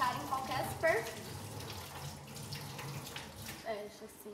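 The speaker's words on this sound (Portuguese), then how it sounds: "Abre a torneira. Molhe as suas mãos e evite encostar em qualquer superfície." Water runs steadily from an open sink tap as hands are wetted for handwashing, a continuous splashing hiss at moderate level with no talk over it.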